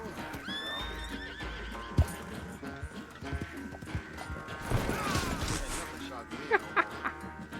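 A horse whinnies and snorts in Red Dead Redemption 2, layered over hoof clip-clops, thuds and dense game ambience, with a sharp thump near the middle and faint harmonic rising calls early on.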